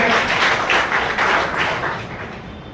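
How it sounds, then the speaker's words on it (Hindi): A seminar audience claps together on cue from a training-session host, a dense burst of applause that swells and then tapers off over a few seconds. "चलिए एक बार जोरदार ताली होनी चाहिए।"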